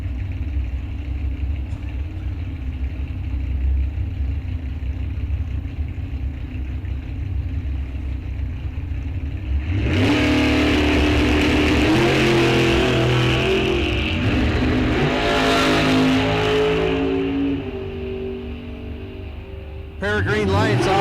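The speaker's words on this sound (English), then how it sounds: "Pair of green lights, off they go. Dragster comes up and goes by" Bracket drag race cars at Rock Falls Raceway idle and rumble at the line, then launch into a loud roaring pass that swells and fades as a dragster goes by, under a continuous announcer's commentary.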